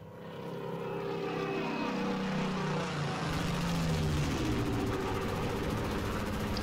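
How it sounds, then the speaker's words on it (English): A Typhoon aircraft passing overhead, a loud steady engine drone that swells quickly and holds for several seconds with a shifting, rumbling tone and no voices. "The Typhoon is spotting and bombing something."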